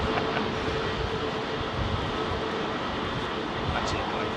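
A jet airliner takes off from Heathrow runway 27R, heard as a steady, loud broadband engine roar with no clear rise or fall, while people talk nearby.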